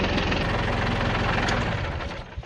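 A tractor engine idles steadily and loud up close, with a dense mechanical knocking rumble that eases slightly toward the end.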